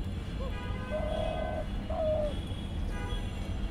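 Spotted doves in an aviary give soft, low coos, two distinct calls in quick succession over a faint background murmur.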